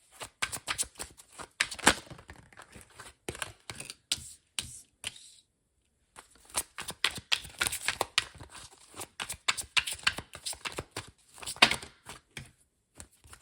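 Close, crisp riffling and slapping of tarot cards being shuffled in quick repeated bursts, with a short silent gap partway through.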